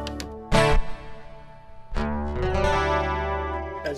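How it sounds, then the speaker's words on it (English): An Ibanez Montage hybrid guitar with built-in chorus strums two chords, one after the other, each ringing out with a shimmering, slightly wavering tone. "It also has built-in chorus."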